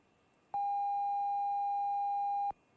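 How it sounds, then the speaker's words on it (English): Altitude alarm in the IL-76 cockpit in X-Plane 12, a single steady electronic tone that sounds for about two seconds and then cuts off abruptly, loud and clear against near silence. "That's my altitude alarm."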